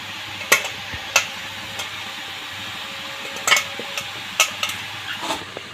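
Shredded cabbage stir-fried in a pan as filling for soyabean samosas, with a steady low sizzle under sharp intermittent scrapes and taps of a spoon against the pan, close and without talk.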